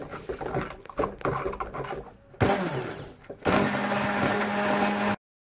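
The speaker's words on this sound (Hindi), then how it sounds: "ये मैंने हैंड ब्लेंडर से ब्लेंड कर लिया है।" A hand blender blending tomato gravy whirs in short bursts, then runs in a steady loud buzz for a couple of seconds before cutting off abruptly.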